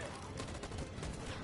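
Troops fire a rapid burst of gunfire on command in the Detroit: Become Human video game, dense crackling shots filling a short moment, fairly faint, with no clear talk.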